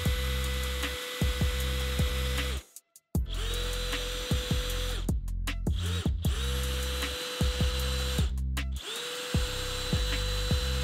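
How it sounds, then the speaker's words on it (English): A power drill bores dowel holes into a wooden board for a DIY jewelry stand, whining in several sustained bursts that ramp up and wind down, separated by brief silent pauses, loud and close with no talking. "We're gonna start drilling them holes."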